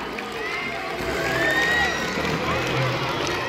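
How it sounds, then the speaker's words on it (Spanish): A school audience in Tabacundo, Ecuador applauds after a children's musical: a dense, steady wash of clapping and crowd noise that holds at an even level for the whole stretch. "Si les gustó, den aplauda."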